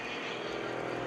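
A propeller-driven aerobatic airplane rolls through maneuvers at an airshow, its engine a steady, loud broadband roar that holds without a break for the whole moment.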